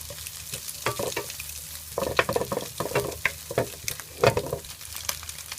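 Food sizzling in a hot pan while garlic and diced onion are stir-fried for salted fish fried rice, with irregular scraping and clattering of a utensil, close by and without talk.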